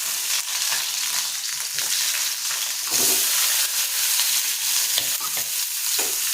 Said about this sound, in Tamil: கொஞ்ச நேரம் கண்ணாடி பதம் வர வதங்கட்டும்.